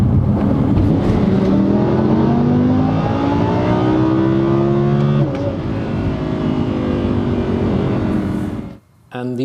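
A Gen 2 Audi R8 with a faulty transmission runs loud and steady at close range, its engine drone shifting pitch through gear changes, with a faint ticking somewhere in the drivetrain before the noise briefly cuts out near the end.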